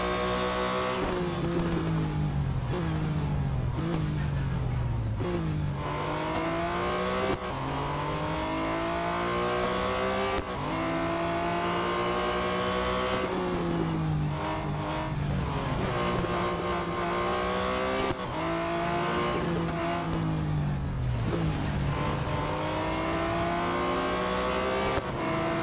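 Race cars in the mobile game Real Racing 3 roar through an overtaking run, engines revving up and down in long sweeping pitch climbs with gear shifts, loud and continuous with no talk.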